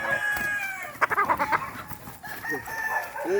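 A rooster crows loudly nearby, with a few short clucks between calls and another crow following.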